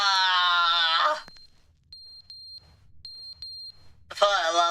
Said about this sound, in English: The fire alarm's running out of battery.